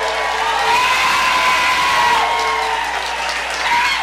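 A large crowd cheers and applauds loudly and continuously, with whoops and shouts rising above steady clapping.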